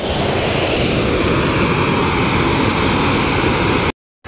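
Loud, steady roar of water crashing down from a dam, dense and continuous, cutting off abruptly near the end.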